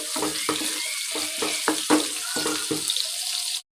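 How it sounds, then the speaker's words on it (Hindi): Garlic, ginger and green chillies fry with browned onions in a pan, a steady close sizzle broken by several scraping stirs before cutting off abruptly. "थोड़ा सा भूनेंगे"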